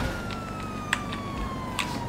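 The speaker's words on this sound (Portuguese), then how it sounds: "Ela viu que a gente ligou a sirene, galera." A police car siren in GTA V, a faint steady wailing tone running under ambient game noise, with a couple of brief sharp clicks and no talking.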